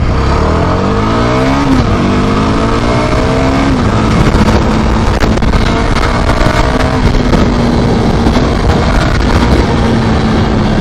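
A Yezdi 330cc motorcycle pulls away in first gear on a road, the engine rising in pitch through a rev, dropping, then holding a steady loud drone with road and wind noise, close and continuous.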